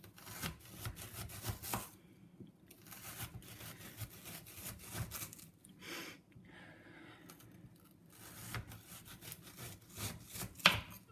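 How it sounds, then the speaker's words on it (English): A knife chops through an onion during prep for spaghetti bolognese, with repeated close, dull strokes and scraping on a board that come in uneven bursts and short pauses, and no talking. "Last onion to cut down"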